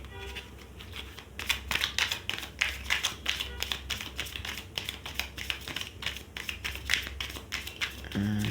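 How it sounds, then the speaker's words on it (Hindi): A deck of tarot cards being shuffled by hand makes quick, close, rhythmic bursts of crisp riffling and tapping that repeat steadily throughout. "कार्ड की सफलिंग पर ध्यान दीजिएगा ताकि आपकी एनर्जी आपके पर्सन से कनेक्ट हो पाए।"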